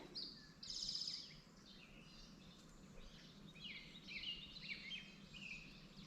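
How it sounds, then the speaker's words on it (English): An eastern towhee sings outdoors in a prairie planting, giving a bright, fairly faint phrase near the start, with other birds chirping against a steady hiss of wind. "That that's the eastern towhee."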